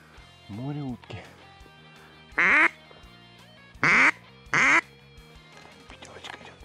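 Loud, nasal duck quacks in a few separate bursts, three strong calls standing out clearly against a quiet outdoor background during a duck hunt.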